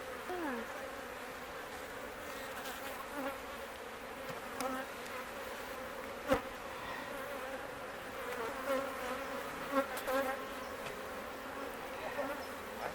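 Honey bees buzzing at a hive, a steady close drone with individual bees whizzing past now and then, a few sharp knocks breaking through the continuous hum.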